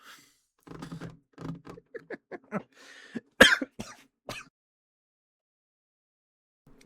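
A single loud, sharp cough, close by, preceded by a series of smaller throaty sounds, then quiet.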